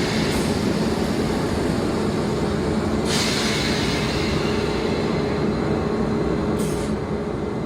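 A DC third-rail electric multiple unit train rumbles steadily past at close range in southern England, a loud continuous roar of wheels on rails with brief higher hissing bursts.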